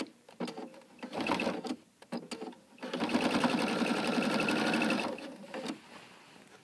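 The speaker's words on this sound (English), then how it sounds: "Lay that out nice and smooth, and you can finish sewing it." A sewing machine stitches quilt binding with a quarter-inch seam, running in short close bursts at first and then in one longer steady whirring run before stopping.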